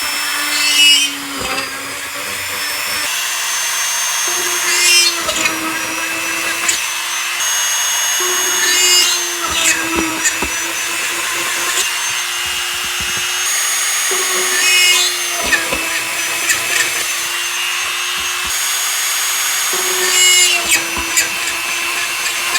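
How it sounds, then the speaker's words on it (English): A power drill works on diorama material in loud, repeated bursts, its motor whining up and dropping off again and again over about twenty seconds, close and alone without voices. "then we'll start drilling"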